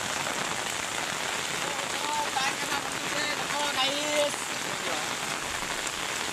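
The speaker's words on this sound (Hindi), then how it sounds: "बहुत जोर पैन वर्षा" Heavy monsoon downpour flooding fields and a threshing yard, a dense, constant hiss of rain drumming on surfaces with no let-up, while a faint voice briefly surfaces beneath it.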